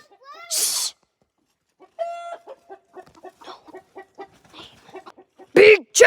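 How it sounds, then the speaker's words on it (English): Chickens perched on a house roof cluck in a quick series of short, close calls, with a louder squawk at the start and another near the end, and a person briefly heard in the background. "Big chicken!"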